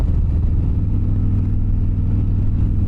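A Harley-Davidson Sportster 48 motorcycle engine rumbles steadily and loudly up close, a deep continuous low throb with no voices over it.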